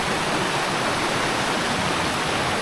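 Strong water rushes through a forest in a loud, steady, broadband roar like a waterfall or fast stream, with no voices.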